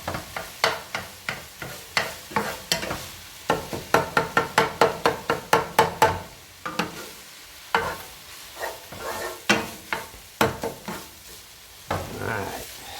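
A spoon stirs a mixture in a bowl, knocking against the sides in quick, rhythmic taps that speed up into a flurry and then slow to scattered strokes. The sound is close and alone.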